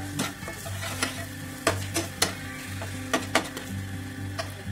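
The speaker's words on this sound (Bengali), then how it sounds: "তা দিয়ে মশলার সাথে এটা নেড়ে নেবো।" Salted masala being stirred in a pan before chicken is added, a spatula scraping and tapping the pan in irregular strokes over a gentle sizzle and a steady low hum, close by, without talk.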